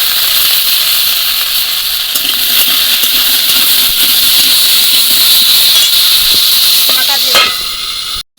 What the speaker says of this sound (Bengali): আমি প্রথমে আলুগুলো ভেজে নেব